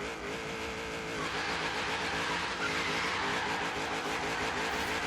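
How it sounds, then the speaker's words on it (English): Supercharged Holden Torana A9X in Forza Horizon 3 revs hard with constant engine drone, supercharger whine and tire noise, loud and steady throughout with no talking. "You can hear that supercharger."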